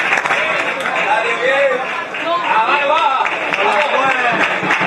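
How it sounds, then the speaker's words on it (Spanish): Spectators at a CD Cabecense versus Pozoblanco football match applaud as two players leave the pitch, clapping and crowd murmur under a prominent announcer's voice talking over it. "Ovación para los dos jugadores del cabecense que abandonan el terreno de juego."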